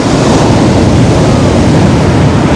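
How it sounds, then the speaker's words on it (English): Loud, close surf crashes onto a beach in a continuous heavy roar, mixed with wind rumble and no voices. "I hope you can hear me above these noisy waves."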